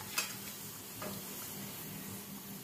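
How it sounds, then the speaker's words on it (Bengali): Rohu fish pieces are stirred into a simmering curry gravy with taro, producing faint, soft scraping and a low bubbling sizzle, with a small click near the start. "মাছগুলো দিয়ে ঝোলের মধ্যে আমি মিশিয়ে দেব।"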